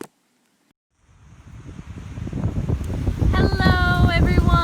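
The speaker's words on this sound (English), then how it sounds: "It is very windy." Outdoor wind rumbles and buffets the microphone, starting after a second of near silence and growing steadily louder, with a high, steady insect chorus joining near the end.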